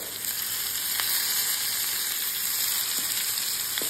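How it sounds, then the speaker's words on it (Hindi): Bottle gourd and gram flour sabzi sizzles steadily in a pan over medium flame, a dense continuous hiss with faint occasional stirring taps, close and without voices. "और यहाँ पे हम इसको अच्छे से मिक्स करते हुए भूनेंगे।"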